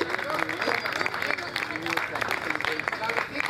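Applause from a gathered audience at a municipal event welcoming the town mayor, a dense stretch of clapping mixed with crowd chatter and a few voices.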